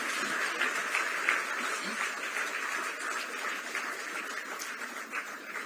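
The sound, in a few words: applause at appointment letter ceremony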